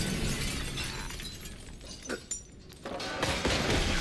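Glass shatters in the video game Indiana Jones and the Great Circle, a loud crashing break followed by scattered tinkling shards and a few thuds, with no talk.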